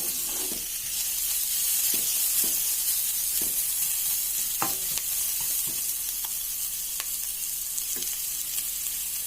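Onions frying in a pan for garlic bhindi do payaz, a loud continuous sizzle close up with intermittent scraping taps from stirring, no voices.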